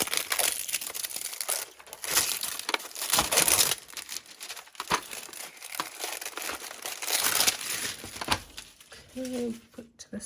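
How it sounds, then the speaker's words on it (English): Crinkly plastic packaging lifted out of a tray in a tin of craft supplies: close, irregular bursts of crackling and rustling, with a short quiet voice near the end. "I was trying to avoid the crinkling, but here we go."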